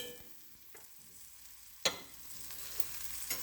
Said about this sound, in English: you cook the butter and garlic together